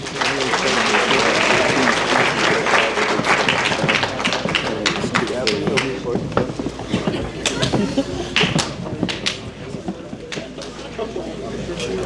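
A crowd at a high school athletic banquet gives the athletes another round of applause, loud dense clapping that gradually thins into scattered individual claps, with voices talking through it.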